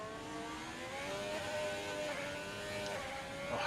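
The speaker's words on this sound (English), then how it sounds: "Oh, you really hear that engine being pushed on the Haas." A Haas Formula 1 car's engine in a racing video game is pushed hard, a high, steady buzzing whine with rising harmonic pitch lines, heard alone at moderate loudness.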